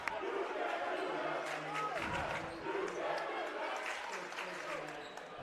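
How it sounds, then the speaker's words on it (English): Excited crowd noise at a varsity high school basketball game, with scattered cheers, claps and ball bounces under an announcer's play-by-play commentary. "This crowd getting excited here"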